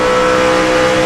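NASCAR stock cars roar at full throttle on a restart at the 2007 Samsung RadioShack 500, a loud, dense engine drone filling the whole moment with no break.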